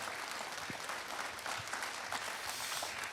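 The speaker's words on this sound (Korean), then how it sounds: "감사의 뜨거운 박수를 부탁드리겠습니다." Warm audience applause at an agricultural cooperative conference in Korea, a steady even wash of many hands clapping at moderate level for a few seconds, with no voices over it.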